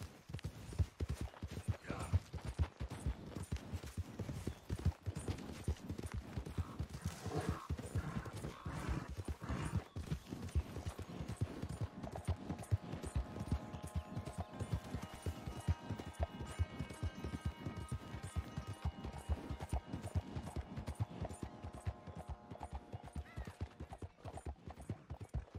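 Horse hooves clip-clopping steadily in Red Dead Redemption 2, a continuous rhythmic trot to gallop close up, with a brief neigh and game music building beneath.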